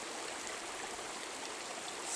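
A forest stream flows in the Pyrenees during a bow hunt for deer, making a steady, even rush of water with no breaks and no voices.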